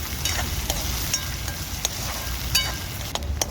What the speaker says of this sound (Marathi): कांदा ना लाल होईस्तर परतून घेणार आहे